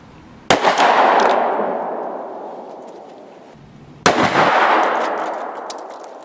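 Two propane-filled plastic water bottles explode outdoors a few seconds apart, each a sharp, loud crack bursting suddenly and trailing off into a long, ringing decay.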